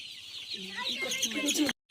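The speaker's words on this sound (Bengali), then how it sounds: "একটা মুরগি ধরে দেখা দিলি" Chickens cluck and squawk nearby while one is being picked out to catch, the calls building over about a second and a half before the sound cuts off abruptly.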